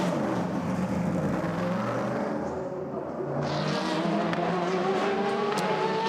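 Race cars roar at the 2016 6 Hours of Nürburgring, a loud, continuous engine howl shifting in pitch as cars pass, with a brief dip in intensity before another surge.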